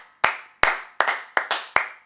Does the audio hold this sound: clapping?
yes